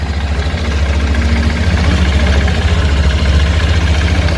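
A new 2023 Honda CRF150L motorcycle engine idling smoothly, a steady, even low rumble heard up close and alone throughout.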